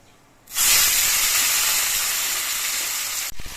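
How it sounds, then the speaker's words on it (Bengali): Karamcha fruit drops into hot oil with spices for pickle, setting off a loud, steady sizzle that bursts in suddenly and holds near-constant before cutting off at the end. "এবার এর মধ্যে আমি করম চাগুলো দিয়ে দিচ্ছি"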